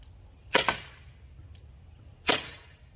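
Sharp pops from a Byrna HD launcher firing at a pumpkin, three distinct cracks with quick whip-like snaps spaced over a few seconds, fairly faint and distant against quiet outdoor background.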